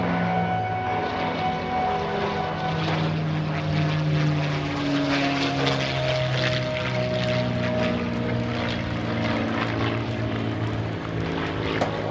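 A P-51D Mustang propeller plane drones steadily overhead at an airshow, its engine rumble rising and falling slightly as it passes, loud and continuous with no voices.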